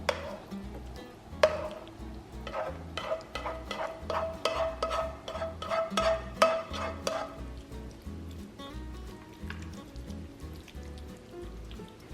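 Freezer-meal ingredients are tipped into the bottom of a pan, with potatoes to go on top, making a run of close clattering, patting and scraping sounds followed by softer stirring and shuffling, with no talking.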